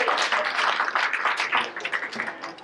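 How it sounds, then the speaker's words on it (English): A room of people applauds at a community event, a short burst of mid-distance clapping with individual claps audible, fading slightly toward the end. "Big round of applause for the nation."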